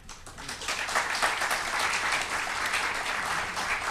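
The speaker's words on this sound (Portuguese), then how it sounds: "É a ela que nós temos que dirigir os nossos aplausos." Audience applause after a lecture in a literary conference series on Rio de Janeiro, a dense steady clapping that swells quickly and holds at full strength throughout, with no voices over it.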